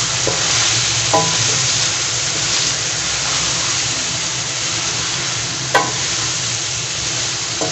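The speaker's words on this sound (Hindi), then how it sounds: "इसको अच्छे से मिक्स कर लेंगे" Beef simmering with kachnar (orchid tree) buds is stirred in a frying pan, giving a steady loud sizzle with scraping spoon strokes, a sharper clack near the start and another around the middle.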